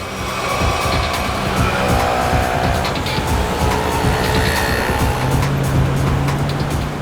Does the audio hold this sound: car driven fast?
yes